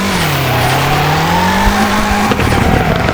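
Steady engine drone with a rising tone and sustained tire squeal as a car drifts in the mobile racing game FR Legends, loud and continuous with no talking.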